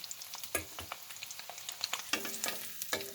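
Eggs fry in a pan, a quiet crackling sizzle broken by irregular spatula taps and scrapes, growing busier toward the end.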